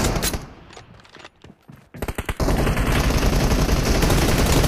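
Gunfire in the mobile game PUBG Mobile, a few sharp shots followed by a dense, continuous automatic burst that stays loud to the end.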